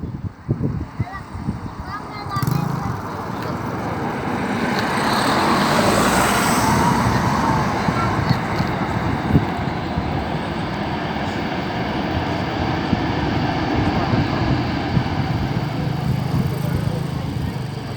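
A passenger airplane landing at Skiathos Airport, its engine roar building from afar into a loud, broad rumble that sweeps past, with people talking over it throughout.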